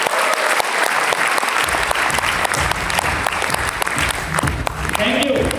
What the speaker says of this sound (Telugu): బిగ్ క్లాప్స్ ఒకసారి.